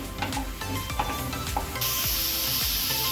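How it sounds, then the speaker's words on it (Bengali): Spice paste is fried in a pan for Bengali potoler dorma, with rhythmic spatula scrapes and taps over a sizzle that turns to a loud, bright continuous hiss partway through; no speech. "এরপর আমি মশলাটা আরেকটু ভালো করে কষিয়ে নেব।"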